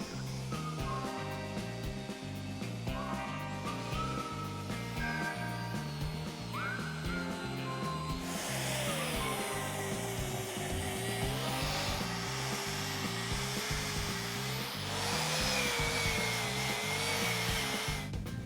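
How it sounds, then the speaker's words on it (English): An angle grinder fitted with a cupped wire brush scours an old anvil during restoration, a continuous loud whine with shifting pitch and a harsher, brighter scraping grind as the brush bites the metal. "The first step is going to be cleaning off the whole anvil with a cupped wire brush on an angle grinder."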